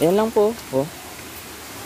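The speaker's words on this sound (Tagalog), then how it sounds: "Sarap pakinggan ng lumagas na, lagaslas na tubig." Spring water runs freely at a rural roadside spring in Atimonan, Quezon, a steady rushing gurgle that carries on alone after someone speaks briefly at the start.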